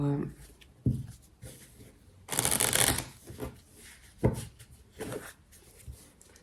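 Tarot cards shuffled by hand in soft, repeated riffling bursts, one loud sweep in the middle, while someone talks over it throughout.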